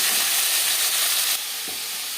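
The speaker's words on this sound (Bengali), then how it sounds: "একটা সাইড ভাজা হয়ে গেলে অপর সাইডটা উল্টে দেবো।" Steady sizzling of rohu fish frying in a hot pan, a loud hiss that softens partway through, with a faint clink of a utensil.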